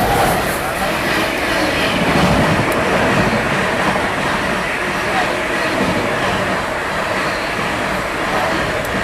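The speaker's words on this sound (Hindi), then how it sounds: "ये सामने से क्रॉस हो रही है हावड़ा राजधानी एक्सप्रेस।" The Howrah Rajdhani Express thunders past at speed, a loud, continuous rush of rolling wheels and wind with rapid clattering rail joints, close by and steady throughout.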